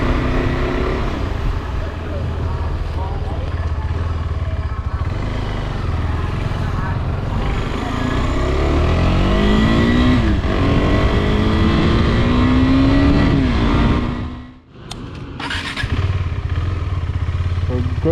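A motorcycle rides along a road at 5 a.m. toward the coast, its engine roaring steadily with rising gear-change revs and heavy wind rush, and a short dip near the end.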